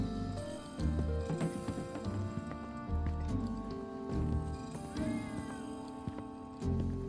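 A cat meows repeatedly in the video game Final Fantasy 7 Remake, several clear, close mews over a soft, steady musical background.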